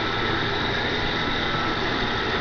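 A twin ProCharger F2 supercharged big-block Chrysler engine runs on a dyno on a pump-gas tune, giving a loud, steady, dense roar with no break.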